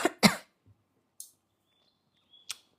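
Two quick coughs close up at the start, followed by quiet with a few small scattered clicks and a faint chirp-like sound.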